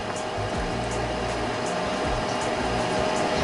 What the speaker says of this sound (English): The air fryer is already finished preheating, so it's going to start counting down.